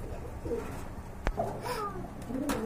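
A pair of fresh red pigeons cooing softly in a pigeon-selling setting, with intermittent low coos and a sharp click partway through against steady background noise.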